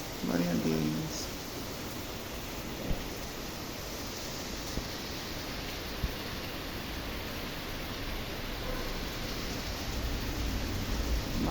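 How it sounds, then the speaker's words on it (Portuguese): Heavy rain pours steadily in Recife as a dense, even hiss, continuous and close, with a voice speaking faintly over it. "Eu amo o som da chuva."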